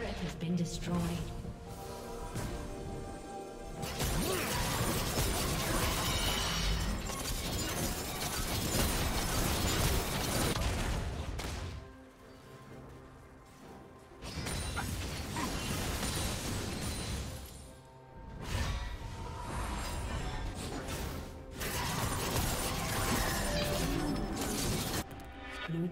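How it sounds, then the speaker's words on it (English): A League of Legends turret collapses in a top-lane Darius versus Rengar match, a crumbling, shattering crash inside a dense, loud wash of battle effects, with an announcer voice speaking over the action. "Blue team's turret has been destroyed."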